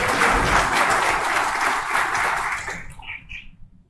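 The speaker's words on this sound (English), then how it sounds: "give Stacy a big round of applause" An audience gives Stacy a big round of applause after a game, a loud dense burst of clapping that fades out over the last second or so, with a few scattered claps lingering at the end.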